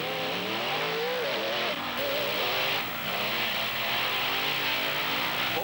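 Roaring engines of the Equalizer and Carolina Crusher in a side-by-side beach drag race at the 1995 Thunder on the Beach in Wildwood, NJ, a loud, continuous growl with rising and falling pitch throughout.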